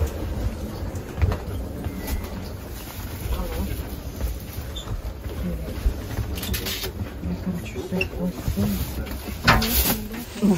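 Interior of a moving passenger train on a summer trip from Ufa, with a steady low rumble and rattling carriage noise throughout, people talking over it and occasional clatter nearby.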